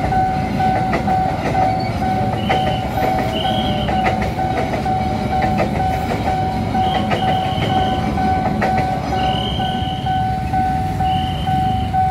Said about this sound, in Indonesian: Kereta api Mataram.